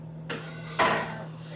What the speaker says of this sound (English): It's a knife. It's just a knife. We're using it for cutting.